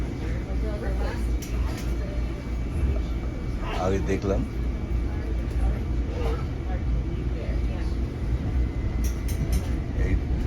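A New York subway train rolls along with a steady low rumble and rattle throughout, while people talk over the continuous noise inside the car.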